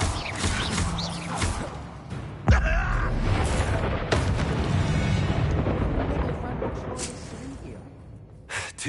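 A Confringo fire-spell blast in Hogwarts Legacy lands as a sudden booming impact, with a second thump shortly after, amid combat whooshes and a voice talking.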